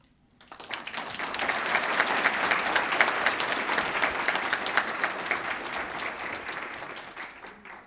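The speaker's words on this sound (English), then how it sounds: "Can we have a round of applause, please, for all of our award recipients?" An audience applauds award recipients at a ceremony, applause building quickly from silence into steady, dense clapping that stays strong and then gradually thins toward the end.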